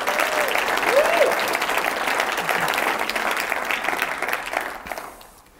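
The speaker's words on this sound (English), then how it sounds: "So can we get a round of applause for both the family members in the audience and those who are supporting us at home?" A conference audience at a software startup event applauds in a sustained, loud burst of many hands clapping that fades out toward the end.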